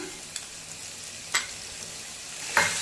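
Ginger and garlic paste frying in hot oil with browned hing and cumin, a steady soft sizzle broken by a few brief stirring scrapes, close and alone.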